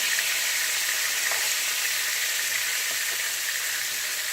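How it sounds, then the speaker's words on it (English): Steady, dense sizzling of fish frying in hot oil, a continuous crackling hiss with no talking. "it's been frying for about 5 minutes. Time to turn them."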